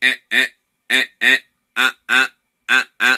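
A human voice imitates a duck as the first step of Kargyraa throat singing, making eight short nasal quacks in pairs with brief pauses between each pair, close and loud.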